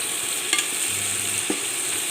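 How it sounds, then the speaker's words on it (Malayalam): Half an onion sizzles in coconut oil for a chicken fry, a steady close hiss broken by a couple of scraping stirs of the spoon in the pan. "അതേ വെളിച്ചെണ്ണയിലേക്ക് തന്നെ ഈ സവാളേൻ്റെ പകുതി ഇടുക."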